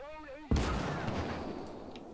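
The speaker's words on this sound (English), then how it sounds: "Enemy machine gun! Enemy artillery!" A sharp, loud artillery blast erupts in a World War II battle in the strategy game Call to Arms: Gates of Hell, followed by a rumbling roll of distant gunfire and faint scattered shots, after a brief muffled game voice.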